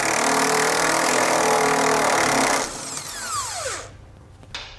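A power tool spins a 15mm bolt out of the frame of a 2012 Chrysler Town and Country during a trailer hitch install, a steady buzzing whir for several seconds that winds down with a falling pitch.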